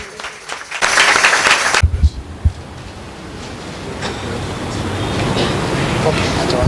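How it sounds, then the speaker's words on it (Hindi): A church congregation claps together in a warm burst that starts after a short pause, lasts about a second, then fades into a lingering room murmur. "आइए ऐसे जिंदा खुदा के लिए जिंदा ताली हो जाए।"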